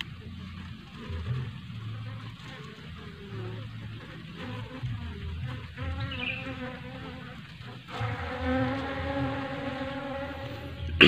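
A dense, steady buzz comes from many bees swarming close around a small new hive, with the droning lasting throughout and swelling slightly toward the end.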